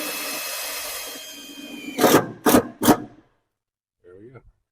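A power drill drives a screw through layers of commercial door weatherstrip at the head of a door frame, giving three short, loud bursts of whirring after a stretch of steady background noise, then a brief spoken remark.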